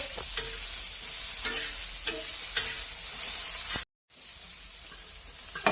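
Chopped tomatoes sautéing with onion and chillies in a pan give a steady soft sizzle, broken by several sharp scrapes and taps of a spoon as they are stirred, with a short silent gap near the end.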